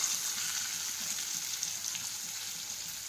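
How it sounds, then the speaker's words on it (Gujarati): Chopped onions and tomatoes frying in a pan give off a steady, close sizzle with a bright hiss that stays even throughout, and no voices over it. "ટમેટા નાખીશું સમારેલા।"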